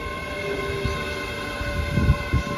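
A train pulls away from Wallyford station, with a steady rumble and hum of wagons rolling past close by, a couple of heavier thumps near the end and no voices.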